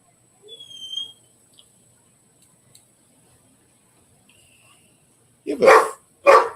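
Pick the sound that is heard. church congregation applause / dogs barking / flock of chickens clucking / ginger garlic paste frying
dogs barking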